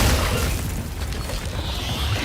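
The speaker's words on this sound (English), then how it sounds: "Oh, it's bombs." A bomb blast in the video game The Callisto Protocol, heard as a dense, rumbling boom with heavy low-end roar that holds for a couple of seconds without a clean decay.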